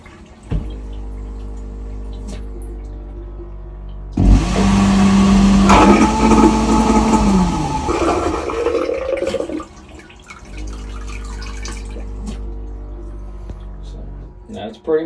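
A Raritan Elegance marine toilet on a Jeanneau 379 sailboat flushing with fresh water: a loud pump whir with rushing water starts abruptly, runs a few seconds with a steady tone, then tapers off, over a constant low engine-like hum.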